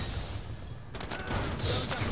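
Gunfire in the Rainbow Six Siege video game, a dense burst of shots breaking out about a second in over a steady game-noise bed, with a brief voice under it.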